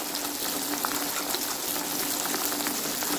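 Onions and chopped garlic frying in oil for a fish curry, a steady dense sizzle and crackle that stays even and close throughout, with no voices.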